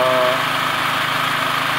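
A petrol generator set supplying power to a MIG/MMA/TIG 160A welding machine running without gas, its engine holding a steady high-revving drone under load, loud and continuous with a brief tonal whine at the start.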